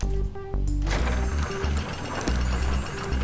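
Crafting machine gears turning in ArcheAge, a continuous mechanical ratcheting and clicking with rhythmic low thumps, steady and close.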